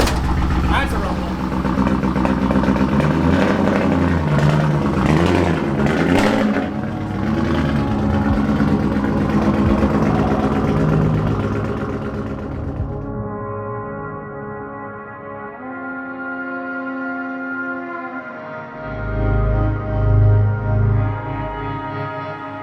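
A 1995 BMW 540i with a V8 engine rumbles loudly and steadily at close range, with deep low harmonics, then settles toward a smoother idle before a brief swell near the end.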